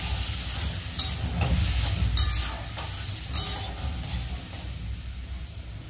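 Spice paste for a pabda fish curry sautéing in a pan with a little water, a steady close sizzle with scraping stirs throughout and no talk.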